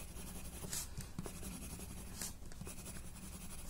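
A pen scratching steadily across a paper Zentangle tile while sprinkle patterns are drawn, quiet and close, with faint short strokes and no talking.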